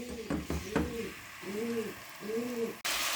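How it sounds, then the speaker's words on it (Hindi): A pigeon coos repeatedly in a kitchen in soft, throaty rolling phrases, close by over a low background hum, ending with a sudden burst of noise. "एक कबूतर हमारे किचन में आ गया हुआ है।"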